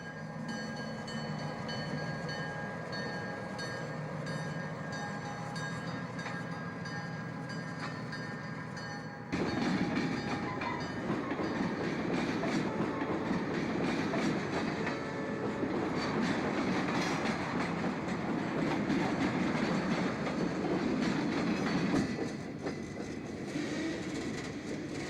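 A Kansas City Southern diesel freight train departing Rex Mill Yard rumbles steadily with wheels clattering over rails, growing louder partway through as the cars roll past close by.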